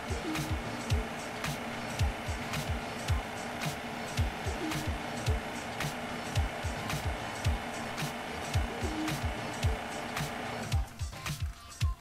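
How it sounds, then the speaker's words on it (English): A Bacharach refrigerant recovery machine purging a line set, running with a steady mechanical hum and a regular pulsing, clicking rhythm, close by, that changes and stutters near the end as the cycle shifts. "is now purging this whole line set, and after it completes that purge cycle and takes it all into a vacuum, it's going to shut down"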